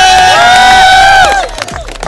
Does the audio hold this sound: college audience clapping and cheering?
yes